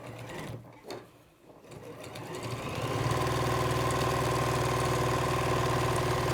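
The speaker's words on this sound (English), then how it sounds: "So we're just going to sew down the seam there." Sewing machine stitching down a seam on stretch fabric for a turtleneck top, quiet at first, then running up into a loud, steady, fast mechanical whirr that holds to the end, with no talk.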